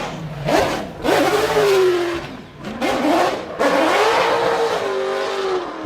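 Corvette exhaust fitted with titanium dual mufflers, one on each side, revving in loud, rising bursts with short pauses between them, steady and close.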